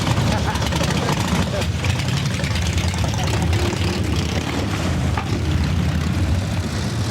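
Motorcycles roaring at Daytona's 50th Bike Week, a dense, steady wall of engine rumble and idling throb that continues without a break, with crowd noise and voices mixed in.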